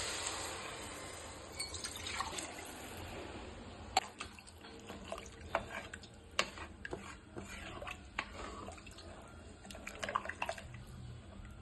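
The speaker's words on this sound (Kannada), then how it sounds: "3 ಲೋಟ ನೀರು ಹಾಕ್ತಾ ಇದ್ದೀನಿ." Three glasses of water go into a pressure cooker over washed rice and tomatoes while tomato bath is being made, giving a soft, steady splashing pour broken by small clinks and knocks, close and moderately quiet, with no talking.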